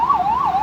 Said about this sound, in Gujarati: ઓ એમ્બ્યુલન્સ આવી